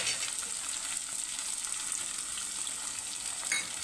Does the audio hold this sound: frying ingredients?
yes